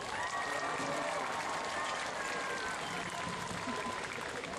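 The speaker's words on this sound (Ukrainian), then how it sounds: "Подякуємо їм великими оплесками!" An outdoor crowd in front of the opera theatre in Lviv claps for the Euro 2012 trophy presentation. The steady applause is moderately distant, mixed with crowd noise, and some faint voices run underneath.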